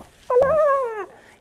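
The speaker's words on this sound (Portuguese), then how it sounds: "Olha o cachorro!" A dog lets out a single high, drawn-out whimper lasting under a second, fairly close and clear against a quiet room.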